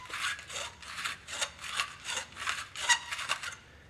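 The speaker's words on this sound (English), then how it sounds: "We've got a standard deburring tool you can take and you can twist and rotate." A standard deburring tool twisted and rotated inside the cut end of a compressed air pipe gives a run of about eight rhythmic scraping strokes, each a short, close, bright rasp, with no talking.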